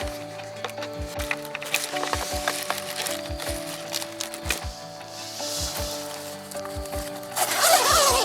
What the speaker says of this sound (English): I'm gonna have to open the zipper over there to get out of this vestibule.